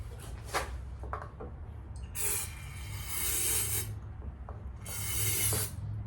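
Two bursts of hissing spray into an engine's carburetor, each lasting over a second, with a short breathy hiss near the start and faint mechanical rattling in between.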